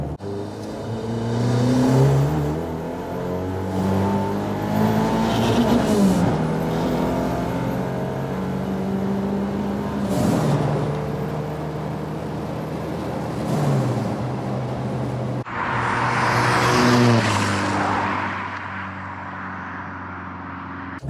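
An old Ford Escort engine revs up repeatedly, several rising and falling bursts of revving close by, with a brief harsher roar near the end.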